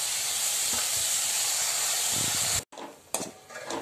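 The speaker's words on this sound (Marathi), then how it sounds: "छान परतून घ्यायचं आणि वरून ही धुतलेली मेथीची भाजी टाकून देऊया।" Washed fenugreek leaves being sautéed in a pan, a loud dense hissing sizzle with stirring scrapes that abruptly cuts out, then a quieter sizzle resumes, no talk.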